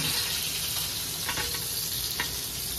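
Surmai fish frying in a pan gives a steady, close hiss of sizzling oil with a few soft stirring clicks, and no talking.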